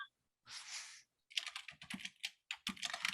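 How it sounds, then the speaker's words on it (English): Rapid clacking of keys on a computer keyboard, a short burst followed by a longer run of quick, uneven keystrokes, close and fairly loud with no talking. "I'm typing it."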